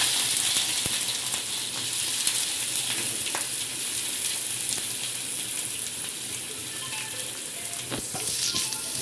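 Cumin seeds and finely chopped onions frying in hot oil: a loud, dense, continuous sizzle crackles evenly close by, with occasional faint clicks of a utensil.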